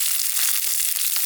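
Meat sizzling hard in a pan with onions over a camp stove beside the lake at Markhu, Nepal: a bright, steady, close hiss with fine crackling throughout and no voices.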